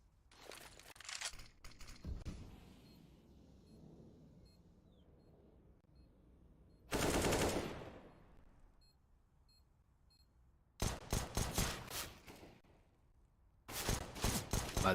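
Bursts of AK rifle fire in a Counter-Strike match, several short loud volleys separated by quieter gaps with faint background game sounds.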